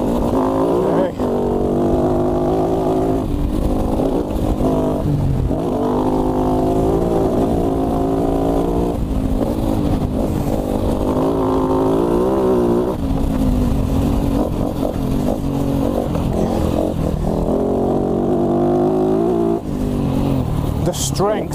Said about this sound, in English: Strength and smoothness of the 450 fuel injected engine is just ridiculous.